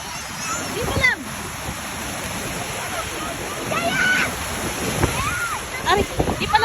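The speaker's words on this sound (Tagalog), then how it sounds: "Makulit na ang dagat. Masyadong nangaalon." Rough afternoon sea waves wash and splash steadily onto a beach, a continuous roaring surf with bursts of spray, while children's and adults' voices talk and call out over it.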